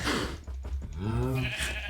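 Sheep bleat in a farming video game, with one long wavering bleat that rises and falls against a steady background of game ambience. No one speaks.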